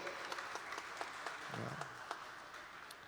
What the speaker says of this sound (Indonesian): Tepuk tangan lagi untuk Bogor lagi